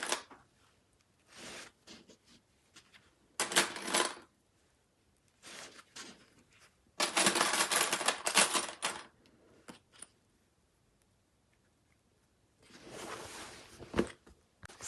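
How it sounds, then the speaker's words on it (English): Sewing clips snap onto the edge of a fabric cushion cover in short bursts of clicking and rustling, close by, separated by quiet pauses. "So that's now clipped all the way around the edge there."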